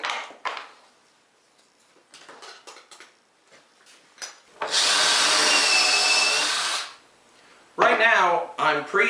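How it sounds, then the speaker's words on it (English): Power drill pre-drilling holes with a countersink bit in wood for 1-inch drywall screws, a loud whirring burst of about two seconds between handling clatter and tool knocks, with a voice speaking briefly afterward. "I'm pre-drilling holes for some 1-inch drywall screws, and I'm using a countersink bit"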